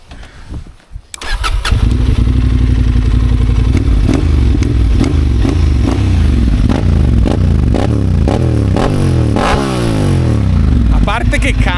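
A Honda Transalp motorcycle engine cranks and fires up loudly, then revs repeatedly, the pitch rising and falling with each throttle blip, close by.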